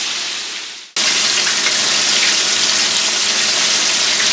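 A kitchen faucet turned on with an elbow gushes in a loud, steady stream after a short fading sound, running close and continuous with no talk.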